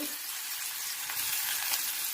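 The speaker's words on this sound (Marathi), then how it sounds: "कांदा टाकते" Chopped onion frying in hot oil with cumin and mustard seeds in a kadhai for Konkani-style pithla, a steady close sizzle with faint clinks and stirring, no voices.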